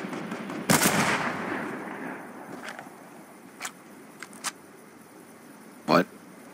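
Fortnite gunfire: one sharp loud shot with a trailing echo opens, followed by a few scattered fainter pops and a final strong blast, with speech running over parts of it.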